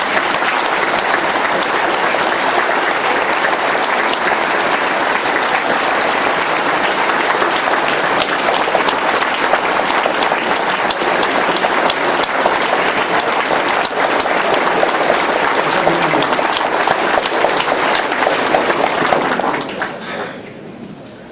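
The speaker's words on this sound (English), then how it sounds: "I'd like to give them a round of applause because they've done it." A press conference crowd gives a sustained round of applause, loud and even for about twenty seconds before tapering off abruptly at the end.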